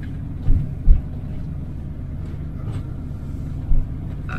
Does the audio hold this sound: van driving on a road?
yes